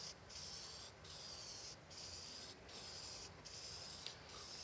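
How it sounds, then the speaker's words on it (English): Matte black paint is sprayed onto a CNC-cut steel fire pit in a series of steady, hissing aerosol bursts, each lasting about a second with short gaps between them, quiet and close. "the reason why we spray the worst surface first and the best surface last is because if there's any overspray"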